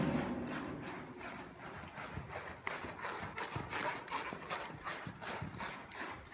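A horse trotting in an arena, steady rhythmic clip-clop hoofbeats on soft footing, fairly quiet and continuous, heard alone.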